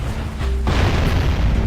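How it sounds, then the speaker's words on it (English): A cannon fires in the game Jak and Daxter, and a sudden loud boom bursts out into a long, rumbling explosion that fills the rest of the moment, close and powerful. "whoever's firing this cannon is useless"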